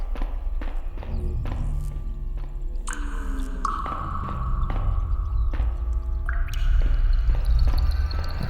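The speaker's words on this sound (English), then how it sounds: "I don't want that dripping on my head." Water drips in the drains of the video game The Dark Mod as a string of sharp, irregular plinks and taps, heard over a low, droning ambient backdrop with sustained tonal hums that swell and shift.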